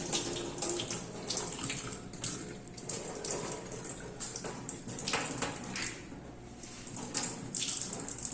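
Moong bean sprouts are washed under a running tap, a steady gushing stream of water splashing into a container with shifting slosh and rinsing noises throughout.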